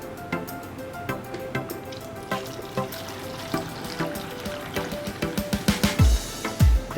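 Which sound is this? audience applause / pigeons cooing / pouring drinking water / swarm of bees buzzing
pouring drinking water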